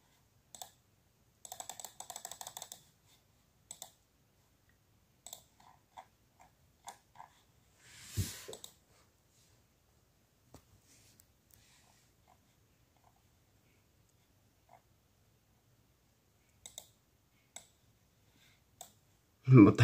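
Computer mouse clicks and keyboard taps while browsing a Baldi's Basics mod menu, sparse, close, light clicks scattered irregularly across quiet stretches, with a brief louder rustle midway.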